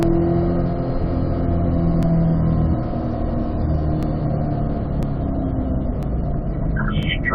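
Corvette engine accelerating on a race track during a high-performance driving session, a loud steady drone with rising pitch as it pulls through the gears, heard continuously up close from inside the car.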